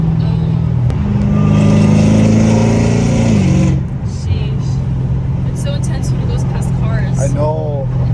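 Catless Dodge Challenger Hellcat Redeye exhaust droning loudly at highway cruise, a steady low engine hum that swells then drops as the revs fall, echoing off a roadside wall, with faint passing traffic.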